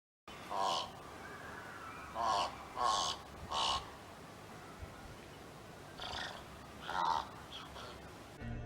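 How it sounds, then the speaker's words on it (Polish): A thick-billed raven gives about seven hoarse, croaking caws, some in quick pairs, fairly close and loud over a quiet outdoor background. "Kruk grubodzioby to obok kruka zwyczajnego największy przedstawiciel rodziny krukowatych"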